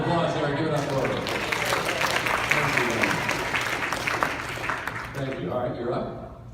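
Audience applause at a fan convention Q&A with a voice actress, a dense wash of clapping throughout with cheering and talk mixed in, fading slightly toward the end.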